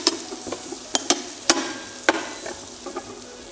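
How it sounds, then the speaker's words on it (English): Butter meets hot canola oil in a pan, producing a soft hiss broken by several sharp, close spattering pops and clicks at irregular intervals. "A little bit of oil, canola oil. We'll put a little bit of butter in there."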